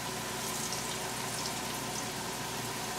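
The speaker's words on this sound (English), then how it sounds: "Deep frying them." Oil sizzles and crackles steadily as Cuban empanadas deep fry, a dense, constant hiss heard fairly faint with no talking.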